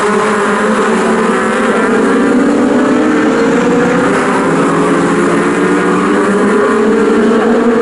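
Legends race cars racing at Snetterton, a steady loud drone of several engines pushing down the Bentley Straight, continuous and close throughout with no talk.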